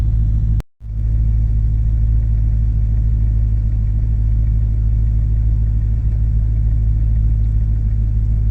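Corvette Z06 engine idling, heard from inside the cabin as a steady low rumble throughout, with one brief dropout near the start and no talk.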